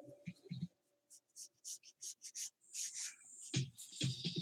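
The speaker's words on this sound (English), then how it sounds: "let me go ahead and start sketching" Pencil sketching a figure on paper, a series of short rhythmic scratchy strokes close to the microphone, followed by longer rubbing strokes, with some low voice sounds at the start and end.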